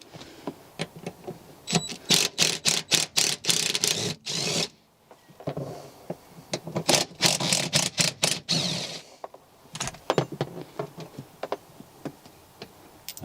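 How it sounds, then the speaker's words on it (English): T50 seat bolts being undone on a BMW E90 3 Series, rapid runs of sharp ratcheting clicks in two bursts with a short gap, close and fairly loud. "we'll go ahead and remove the rear bolts first."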